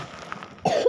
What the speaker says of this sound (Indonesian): Aku kalau batuk agak susah ngomong